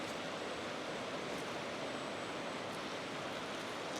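Water flows over rocks outdoors as a constant, broadband rushing wash, steady and moderately quiet throughout with no distinct events or voices.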